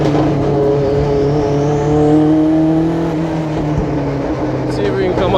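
Racing video game car engine droning steadily and loudly, pitch rising and falling with throttle as it drives, while someone talks over it.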